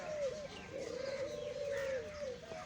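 Soft, low spotted dove coos repeat in a drawn-out rhythm, fairly faint against quiet outdoor background at a zoo.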